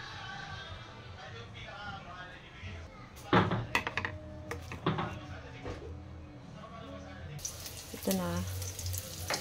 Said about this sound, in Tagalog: Igisa ko na.